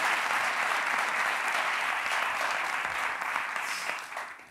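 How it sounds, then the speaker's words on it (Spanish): A television studio audience on a late-night talk show applauds in a thick, even roar of clapping that holds steady, then tapers off near the end. "Un aplauso para"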